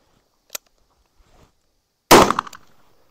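A .44 Special pistol loaded with Magnum large pistol primers fires outdoors: a faint sharp crack early on, then one loud close gunshot with a brief ringing tail.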